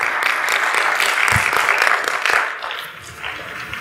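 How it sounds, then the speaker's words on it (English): An audience at a client bootcamp event claps and cheers loudly, dense applause with whoops that fades somewhat toward the end. "They're clapping for you in there too."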